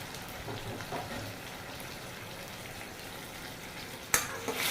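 Tomatoes frying in oil for paneer butter masala, a continuous close sizzle with soft stirring scrapes, ending in a sudden louder clatter of the utensil against the pan.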